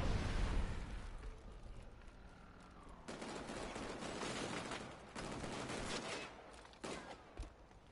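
Frag grenade detonating in the shooter game Killzone on PS4, heard as loud booming bursts and crackling blasts with rapid gunfire-like rattles, several separate impacts spread across the stretch, no voices.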